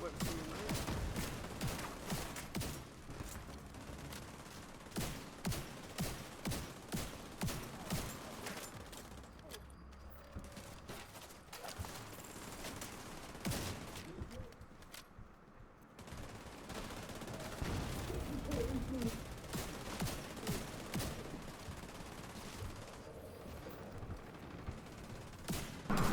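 Rapid bursts of gunfire from the Scorpio weapon in the video game Paradise Lost hit a large enemy, crackling in dense volleys with brief pauses, loud and close, while a voice talks over parts of the fight.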